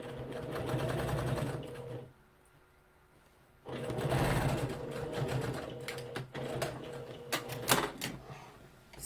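Sewing machine stitching a shirt seam in close, rapid bursts, a whirring run that stops for a quiet pause and then resumes, ending in shorter uneven stitching spurts.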